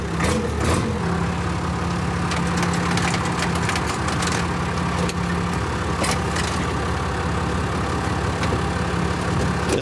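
A tractor engine idles close by with a steady low throbbing rumble, broken by a few sharp mechanical clicks and knocks.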